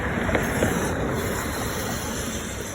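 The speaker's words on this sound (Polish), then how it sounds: "są fale." Black Sea waves at night wash in a broad, steady roar of surf, with wind noise across the microphone and no talking.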